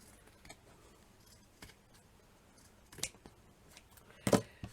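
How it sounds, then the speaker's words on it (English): Scissors trimming the fabric of a handmade shabby chic cushion, with a few soft scattered snips building to a sharper, closer cut near the end; quiet and with no talking. "Trim that down a bit more, I think."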